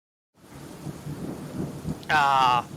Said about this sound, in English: Hear the sound of the rain, pittering and puttering